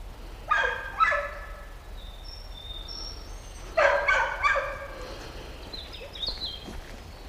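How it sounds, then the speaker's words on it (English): A dog barks outdoors in open country where people are about, two separate bursts of several quick barks each, moderately distant over a quiet background with faint bird calls. "It's a dog being noisy because it's having fun."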